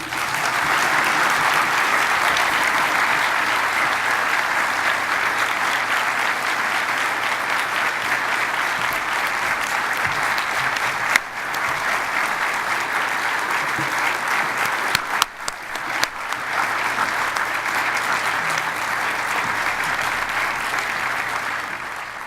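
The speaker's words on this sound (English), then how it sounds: "we don't usually get such a large amount of spontaneous applause" Sustained audience applause after a lecture by Sally Jewell, a large crowd clapping steadily and densely for a long stretch, with a few brief dips and knocks partway through.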